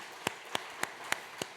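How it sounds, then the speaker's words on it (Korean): A church congregation claps to welcome a newcomer: five sparse, evenly spaced claps, fairly faint and alone, with no talk over them. "박수로 한번 환영하겠습니다"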